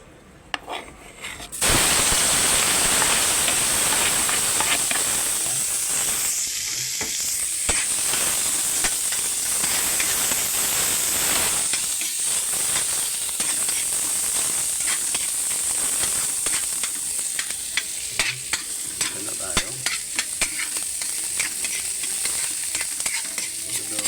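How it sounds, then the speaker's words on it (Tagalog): Ginger, garlic and onion hit hot oil in a pan and sizzle loudly and steadily, with a bright hiss and occasional stirring scrapes throughout. "magigisa na po tayo ng ang ating luya, bawang, sibuyas"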